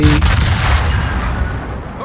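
Naval gunfire from the cruiser USS Bridgeport unloading an armour-piercing salvo in World of Warships: a heavy, sustained low rumble of cannon blasts rolling together, loud and close throughout.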